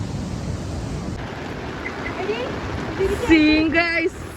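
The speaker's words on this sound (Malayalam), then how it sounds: "നല്ല മഴ വന്നിട്ടുണ്ട് നല്ല മഴ" Heavy rain makes a continuous, even roar of broadband noise, and a person speaks briefly over it near the end.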